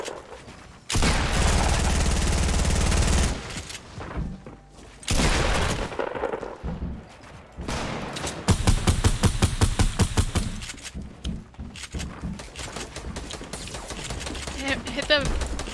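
Rapid bursts of gunfire and booming shots in a Fortnite Battle Royale match, dense and loud in several clusters over the span, with players talking over the shooting.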